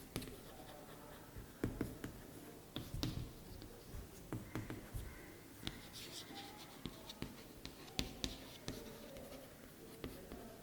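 Pen or pencil scratching across notebook paper in a secondary school classroom, a steady run of faint strokes with small taps, quiet and close, with little talk.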